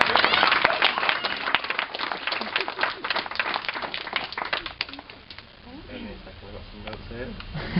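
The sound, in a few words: wedding guests applauding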